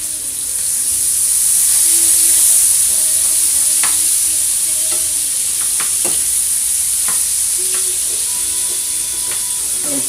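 Onions seasoned with Cajun seasoning fry in a pan with a loud continuous hiss, while a utensil scrapes and taps through them in scattered strokes.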